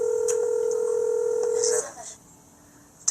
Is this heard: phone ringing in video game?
yes